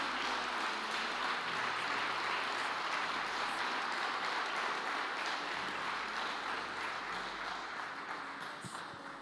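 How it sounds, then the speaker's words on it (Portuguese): A church congregation claps during a sermon, with dense, sustained applause that fills the room and fades slightly toward the end. "Você pode aplaudi-lo com toda a sua força."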